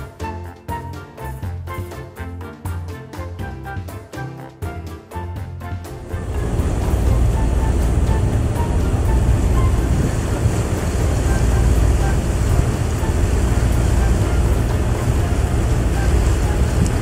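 A boat cruises through a bay, its engine rumble and rushing water rising loudly after a few seconds of rhythmic, pulsing sound, then holding steady with wind buffeting the microphone.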